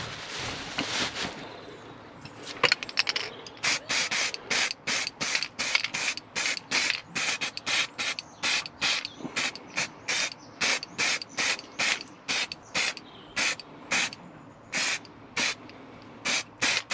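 Short bursts of aerosol spray paint hiss in a rapid regular series while a camouflage pattern goes onto an airsoft carbine, each puff loud and close with brief gaps between them and no voices.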